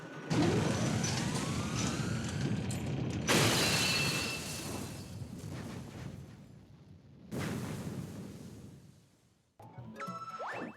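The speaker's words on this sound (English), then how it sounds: "Act quickly to guide a bullet bill to the Grand Star's cage and Megaleg will explode" The Megaleg boss blows up in Super Mario Galaxy with a loud, sustained explosive roar, followed by a second heavy blast, a dwindling rumble and a final burst of game sound effects at the end.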